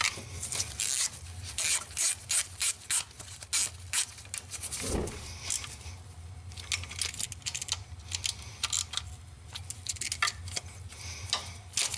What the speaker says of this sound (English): I'll just use my quarter inch and we'll snug these up.